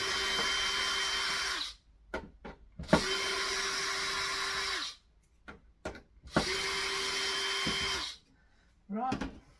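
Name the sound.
jigsaw cutting wood for toolbox handhold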